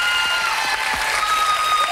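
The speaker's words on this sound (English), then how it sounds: "keep the applause going and raise the roof" Studio audience applause on a 1990 dating game show, a loud, continuous wash of clapping with bright electronic tones faintly running through it.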